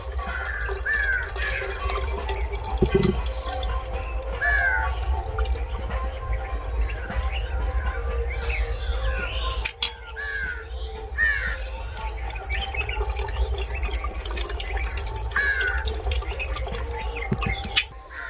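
Cold tap water runs steadily over fresh chhana curds while they are rinsed in a Bengali rasgulla kitchen, a continuous close splashing flow with a few small clinks.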